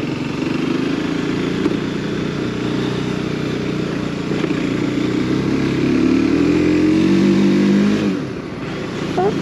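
A Mondial Piega 125cc motorcycle rides over cobbles, its small engine droning steadily up close, then rising in pitch as it's revved harder before easing back toward the end, with wind and road noise underneath.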